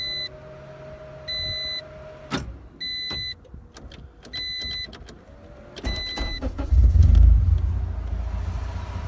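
Supercharged Honda K20 wagon with a full 3-inch exhaust, heard as a series of electronic chimes and beeps at key-on, then the engine catching and settling into a low rumbling idle.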